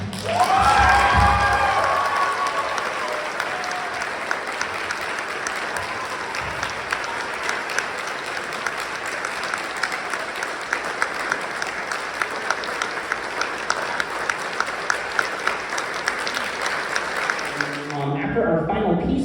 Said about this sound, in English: please give a thunderous round of applause for your French horn section